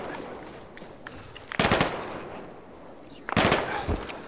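Anti-tank gun in a war video game, firing two loud, sharp blasts about two seconds apart, each with a short rumbling tail, over quieter battle background noise.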